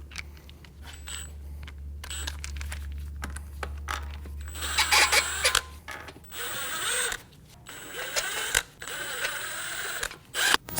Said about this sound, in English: Snug the lug nuts down.